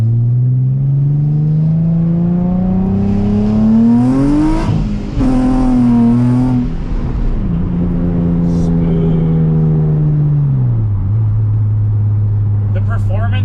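A Nissan 350Z conversion running a performance tune accelerates hard, its engine note climbing loudly through a gear, dipping at shifts, then settling and easing off, heard close from inside the car.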